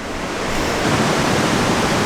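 A big waterfall beside a salmon ladder roars in a steady, loud, dense rush of falling water that fills the whole moment without pause.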